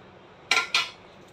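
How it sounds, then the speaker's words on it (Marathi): A metal lid goes onto a pressure cooker holding rice, dal and water, giving two quick, bright metallic clanks close by in a quiet kitchen. "आता मी ह्याला कुकरला झाकण लावून घेते,"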